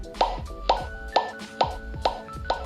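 A handheld device sounds a repeated volume-adjust beep, six short tonal blips at a steady rhythm about every half second, each with a sharp onset and quick decay, close and clear with no talking.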